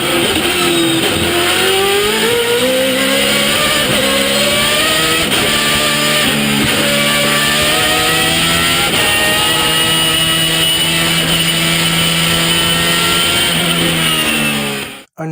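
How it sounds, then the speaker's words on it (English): A Judd V8 swapped BMW E82 race car with straight cut gears screams past at high revs, loud and close, its engine note climbing through the gears with a sharp gear whine before cutting off abruptly. "the late Georg Plasa's Judd V8 swapped BMW E82 at 134"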